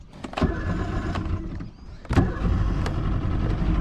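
A Glastron speed boat's engine cranks, catches and settles into a rough running rumble, with sharp bursts as it fires and a second surge of revs partway through.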